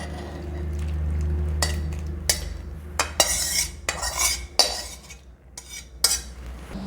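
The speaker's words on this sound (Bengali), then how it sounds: "এটা আমি কড়া থেকে থালাতে ঢেলে নেব" Cooked soybean bora do-peyaja curry with egg being poured from an iron wok onto a plate, with a series of scraping, clinking strokes of a spoon or ladle against metal, close up and fairly loud over a low steady hum.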